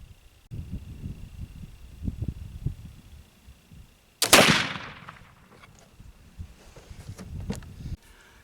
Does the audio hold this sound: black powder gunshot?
yes